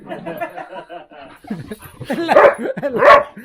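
Two dogs beside a timber-fitted campervan give short barks and whimpers, close by and getting louder toward the end, mixed with laughter and people chatting.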